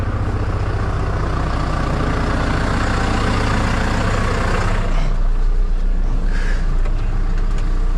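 A farm tractor spreading liquid fertilizer on a wheat and rapeseed field runs with a loud, close, low diesel rumble, steady throughout, with a brief higher-pitched rattle near the end and no speech.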